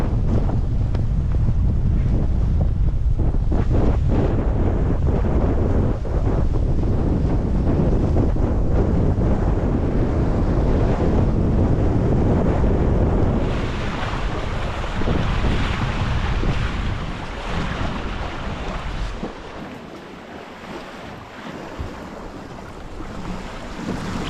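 Strong wind roars across the microphone aboard a steel expedition sailboat in the Newfoundland fjords in winter, with waves and the rush of water beneath. The gusting stays steady and loud throughout and eases slightly toward the end.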